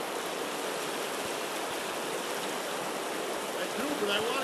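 River water rushes steadily past a fishing spot on a flowing trout river, a continuous broadband roar close by, loud and unbroken throughout.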